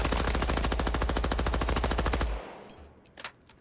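A video game automatic weapon fires a rapid, steady burst of loud gunshots for about two seconds, then stops, leaving a few faint clicks and a short distant rattle.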